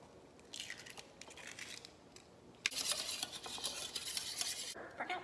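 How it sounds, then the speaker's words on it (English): An egg being whisked into a quarter cup of pineapple juice in a bowl, giving quick, steady scraping and clinking strokes that grow louder and busier partway through, close up with no talking. "I'm gonna whisk in an egg"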